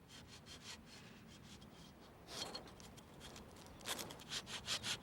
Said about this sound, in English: So I started sawing as hard and as fast as I could.